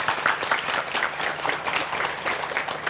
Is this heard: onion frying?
no